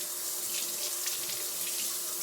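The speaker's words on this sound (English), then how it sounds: "I'm going to wash it off. I just rinse the meat." Water runs steadily from a kitchen tap while raw steak is rinsed under it, a close, continuous splashing hiss with slight shifts in the flow as the meat is moved about.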